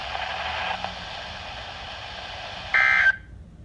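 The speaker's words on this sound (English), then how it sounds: "The warning alarm tone will be activated for hazardous watches and warnings" A steady electronic warning tone from the Emergency Alert System for hazardous watches and warnings in Colorado, holding continuously before a brief louder shift in pitch near the end, then stopping.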